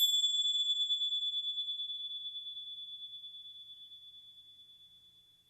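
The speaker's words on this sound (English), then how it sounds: "that invitation of the bell to sing or to sound" A meditation bell struck once at the start of a mindfulness session, its clear high tone ringing out alone and slowly fading over several seconds.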